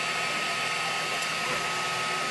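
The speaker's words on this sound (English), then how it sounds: "now I'm printing it. It's quite an exotic design. There's a display of it there on the screen, and I'm printing it on my 3D printer." A 3D printer running a long print of a planetary-gear phone stand gives a steady, loud, broadband whir and hum of fans and motors with no clear breaks.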